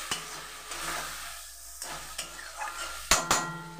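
Spice paste with red chili powder and turmeric frying in a pan, a soft continuous sizzle broken by scraping stirs and a few sharp clinks of a utensil against the pan.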